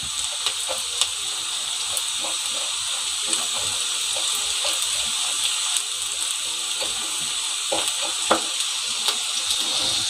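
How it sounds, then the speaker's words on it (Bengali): Raw rice grains dry-frying in a pan for a Bikrampur-style spice mix, giving a steady, close hiss and sizzle with scattered small crackles and ticks throughout, no talking. "এখন এই চালগুলো আমি ভেজে নিচ্ছি।"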